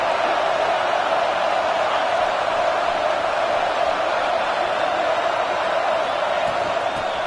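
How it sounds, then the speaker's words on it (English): Roaring stadium crowd noise in a college football video game, a steady loud wash building during a red zone defensive stand, continuous with no pauses. "here comes the noise. This crowd is trying to inspire this defense to make a big red zone stop."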